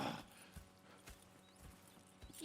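In the Red Dead Redemption 2 video game, horse hooves clip-clop at a slow, uneven walking pace, a few quiet distinct knocks, with a faint whinny-like murmur in the background.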